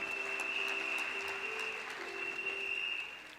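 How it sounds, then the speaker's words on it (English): Applause at a university autumn graduation ceremony, a steady wash of hand clapping from a large seated audience that holds level for about three seconds and then begins to thin out. "Can we also give them a big round of applause?"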